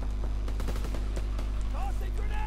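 Rapid automatic gunfire in a shooter video game, a quick run of sharp shots over a constant low electrical hum, with voices talking in the background.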